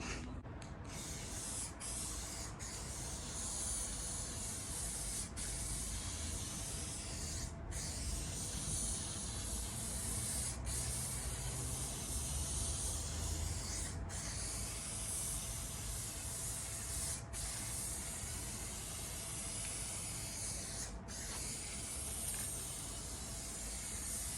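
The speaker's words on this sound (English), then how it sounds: "give it a spray" A long continuous spray hiss close by under a car's underside, steady for over twenty seconds, broken by a few brief pauses.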